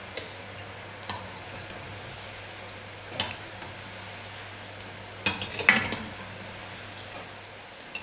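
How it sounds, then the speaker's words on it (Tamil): Chana dal batter fries in oil while a ladle stirs it, a faint low sizzle under occasional clinks and scrapes of metal against the pan, a cluster of louder scrapes near the end. "மாவை எண்ணெயில் போட்டு 1 நிமிஷம் கழித்து கரண்டி வச்சு கலந்து கொடுத்துக்கலாம்"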